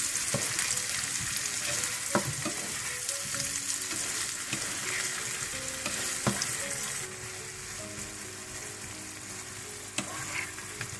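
Golden fried potatoes with chives sizzle in a pan as cream is stirred in, giving a loud steady frying hiss with regular scraping strokes and faint tonal background.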